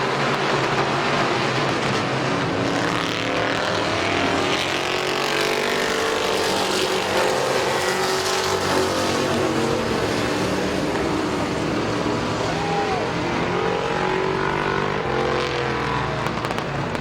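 Race cars running at Midvale Speedway, a continuous loud roar of engines rising and falling as they pass, with a dense rumbling wash throughout and no clear talk.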